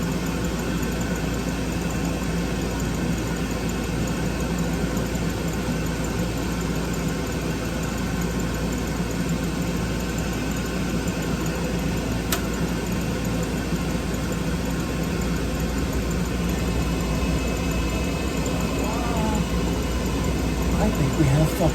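A Laars Mighty Therm2 gas boiler with a hot surface igniter lights and fires, giving a steady loud droning roar throughout, with a person talking over it.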